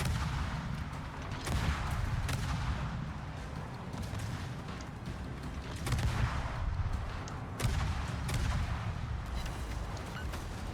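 Warship broadside gunfire in the video game World of Warships, deep booming salvos with rumbling blasts at a few points over a dense, continuous battle noise bed.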